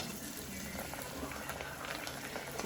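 Dough balls frying in hot oil on a stove, a steady dense sizzle and bubbling that stays close and even throughout.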